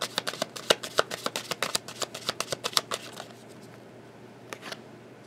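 A deck of tarot cards riffled and shuffled by hand, a rapid run of crisp flicking snaps for about three seconds, then a couple of softer taps, close with no talk.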